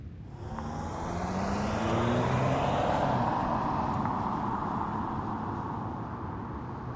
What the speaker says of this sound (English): Highway 17 sees you taking the Resistance's scout car along a stretch of highway